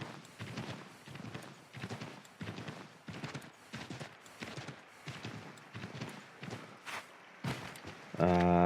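Horse hooves clip-clop steadily in Assassin's Creed III, a regular rhythmic trot that stays fairly close and moderate in level and then breaks off near the end.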